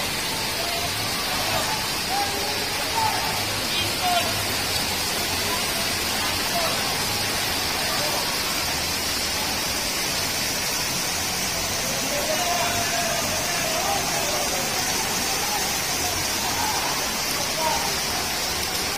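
Heavy rain pours steadily in a dense, continuous hiss over floodwater, with a voice faintly audible beneath the downpour at times.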